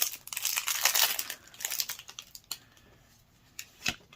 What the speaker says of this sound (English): So it's in this little plastic saran that we end up trying to rip open.